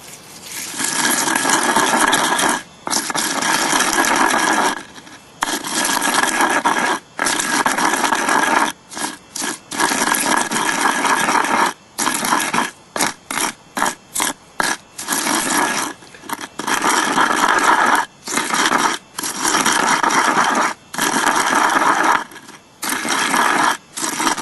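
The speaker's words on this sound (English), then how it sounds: "I'm just going to grind this for a few minutes" Loud, continuous abrasive grinding of the platform on a flint blade core, running in sustained stretches broken by brief pauses, close and harsh throughout.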